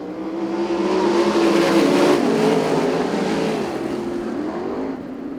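ASCS sprint cars racing at Arizona Speedway, a loud droning roar of several engines under throttle on restart, swelling as the pack passes near and then easing slightly, no talking.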